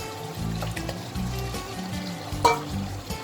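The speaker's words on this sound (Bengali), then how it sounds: "এবার আমি ভেজে রাখা আলুগুলো দিয়ে দেব" Fried potatoes go into a pan of meat curry already sizzling in released oil, giving a steady low crackle with soft stirring and scraping, and one brief clink near the end. No voices.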